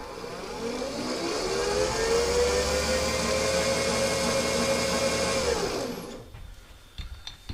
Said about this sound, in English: Okay, the brake's releasing and the motor's spinning.